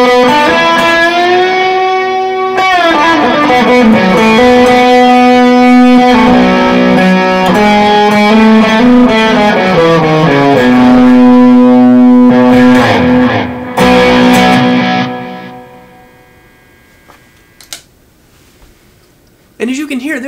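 An electric guitar driven through a Walrus Audio Voyager overdrive, with reverb from a Boss RV500 and a Boss DD3 digital delay, plays sustained distorted chords and notes that ring out and decay into a reverb tail, loud and close.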